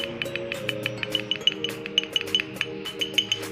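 A spoon stirs Namora Water in a glass, giving rapid, evenly paced clinks and taps against the glass over a low steady hum, with no talking.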